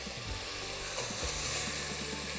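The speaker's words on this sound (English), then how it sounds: "The meat browns, we're just gonna take it out" Meat browning in hot oil in batches for Texas chili, a steady close sizzle and crackle filling the whole stretch, with a few low knocks of the pan or utensil.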